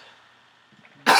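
A single loud cough bursting in close to the microphone after near-quiet background, abrupt and harsh.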